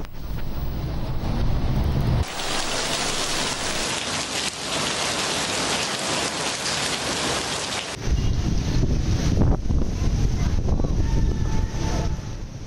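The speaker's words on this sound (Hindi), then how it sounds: "लाहौर के मुख्तलिफ इलाकों में आंधी के साथ बारिश हो रही है।" Heavy rain falls with a windstorm in Lahore, a dense, loud, continuous roar of rain on surfaces that shifts in texture midway, with no voices.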